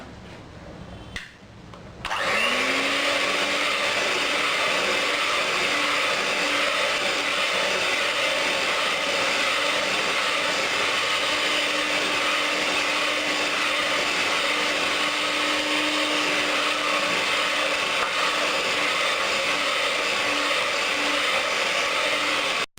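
An electric hand beater churns sponge cake batter with vanilla essence, a steady, loud motor whir that starts abruptly after a brief pause and runs unbroken to the end, with no voices.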